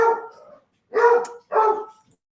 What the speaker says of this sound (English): He's like, bark, bark, bark.